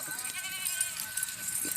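A six-tooth male goat standing at a goat farm gives a faint, thin bleat amid steady outdoor background noise.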